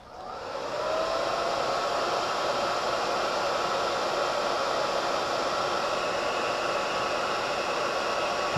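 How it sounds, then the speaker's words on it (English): A hair dryer blows steadily on wet paint on a zombie bust, a loud, even whoosh that starts up and holds for several seconds with no talking. "Come on, come on, blow dry."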